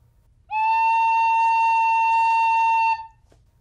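One bright, high tin whistle tone starting abruptly and held evenly for over two seconds before stopping, clear and close.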